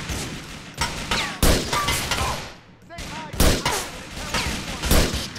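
Repeated gunfire bursts in GTA IV, a series of sharp loud shots at irregular intervals with game ambience between, some close together like a fusillade.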